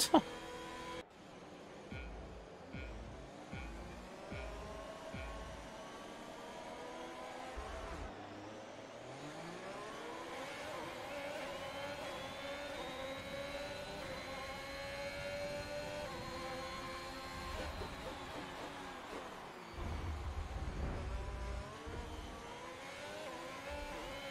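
Race car engine in the F1 2021 video game, a steady high revving whine that rises and shifts pitch through gear changes, running continuously with louder bursts near the start and toward the end.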